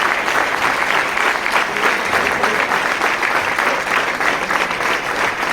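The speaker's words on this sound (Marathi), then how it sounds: "आपण सर्वजण यांना उभं राहून आपण त्यांना टाळ्या वाजू द्या." An audience at a Hindu Swabhiman gathering rises in a standing ovation, with dense, continuous clapping from a large crowd that stays loud and even throughout.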